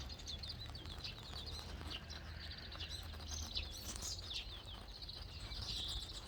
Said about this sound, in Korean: 이 참새떼들이 세상에 들깨밭으로 다 날아왔네